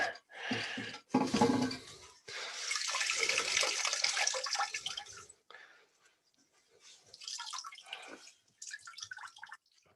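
Water rushes and splashes during a toilet tank gasket replacement while the tank drains, with loud continuous stretches broken by pauses and a quieter trickle near the end.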